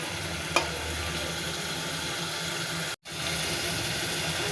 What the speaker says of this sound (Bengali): নাড়াচাড়া করে নেব, মশলার সাথে ভালোভাবে ভেজে নিব।